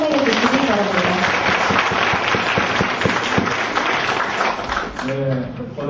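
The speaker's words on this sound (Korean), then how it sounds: "큰 박수로 환영해 주시기 바랍니다." An audience at a legal seminar gives a loud, dense round of welcoming applause with sharp individual claps, which continues steadily before a voice begins speaking near the end.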